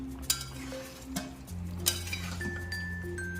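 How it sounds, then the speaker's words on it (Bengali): A metal lid lifted off a pot of fish curry, a couple of sharp clinks and a scrape standing out over a quiet kitchen background. "15 মিনিটের মতো হয়ে গেছে, ঢাকাটা খুলে নেবো।"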